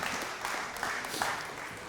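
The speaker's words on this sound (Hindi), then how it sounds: "इनके लिए तालियां बहुत सारी होनी चाहिए" A studio audience at a televised Ramadan debate show bursts into dense, steady applause after a child's speech, a brief burst of many hands clapping close together with little voice beneath it.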